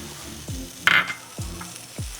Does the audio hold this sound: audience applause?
no